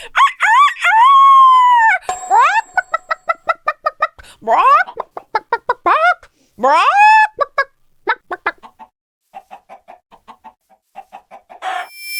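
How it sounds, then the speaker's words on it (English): Minecraft chickens crow and cluck in the video game, with a long rising crow followed by rapid bursts of short, sharp clucks and further crows, loud and close against silence. "Thank goodness I finally found some chickens!"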